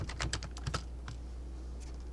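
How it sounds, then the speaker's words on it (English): A computer keyboard used for live-stream coding, with a quick burst of clicky keystrokes, a single stray tap, then a low steady hum as the typing stops. "so my typing's a little off"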